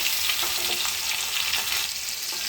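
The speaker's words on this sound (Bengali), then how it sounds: "মাছটা উল্টে দিয়েছি।" Fish pieces fry in hot oil in a pan, a dense, constant hissing sizzle close by, with faint crackles throughout and no voices.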